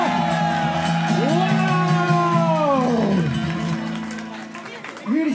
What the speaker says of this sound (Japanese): 改めてキムジこと木村エリサに大きな拍手